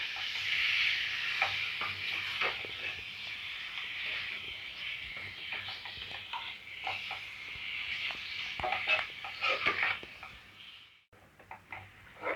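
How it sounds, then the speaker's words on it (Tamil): Chicken coated in masala is stirred in a frying pan for a mango chicken dish, with continuous sizzling and repeated scraping strokes of a spoon, close up, easing off near the end. "சிக்கன் ஃபுல்லாக நல்லா மசாலா படுற மாதிரி கிளறி விட்டாச்சு."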